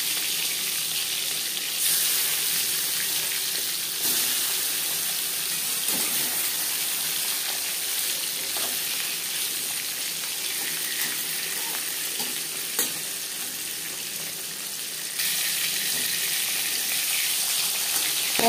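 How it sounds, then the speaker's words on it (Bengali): Marinated silver carp pieces fry in hot mustard oil with a loud, continuous crackling sizzle that swells at moments, close up and with no talking. "এবার দিয়ে দেবো ম্যারিনেট করে রাখা মাছ।"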